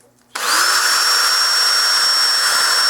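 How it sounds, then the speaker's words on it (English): After a brief quiet moment, a power drill starts up sharply and runs at a steady, loud, high-pitched whir until the end, drilling through a model RC plane wheel. "take a drill and drill through the hole in the back side"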